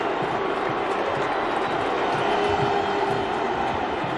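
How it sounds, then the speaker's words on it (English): A huge stadium crowd of 100,000 at a 2002 Miami Hurricanes versus Florida college football game, booing the Hurricanes as they take the field; a steady, dense roar of voices that holds at an even level throughout. "So a cascade of boos as they eschew protocol."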